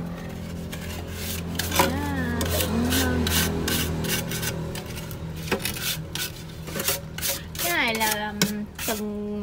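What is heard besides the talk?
scrubbing the edges of a cement pot with a foot brush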